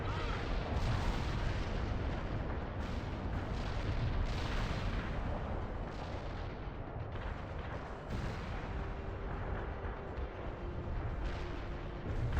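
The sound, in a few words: artillery barrage explosions in a video game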